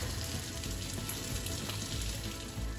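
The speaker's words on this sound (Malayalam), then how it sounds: "അപ്പം പപ്പടം പൊരിച്ചെടുക്കുക" Pappadam fries in oil in a pan, giving off a dense, continuous sizzling crackle at close range with faint stirring clicks and no speech.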